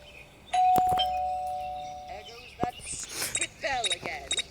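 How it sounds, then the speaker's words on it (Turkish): A two-tone doorbell chime rings out once, clear and close, followed by scattered chirpy game effects and a voice speaking. "Zil çaldı."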